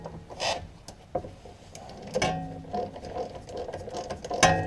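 A ratchet wrench loosening the brake banjo bolt on a 1970 Camaro gives off quick, irregular mechanical clicks and metallic ticks at close range, with no talking.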